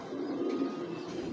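A club racing pigeon gives a low, soft coo at close range, a brief murmuring call with no talk over it.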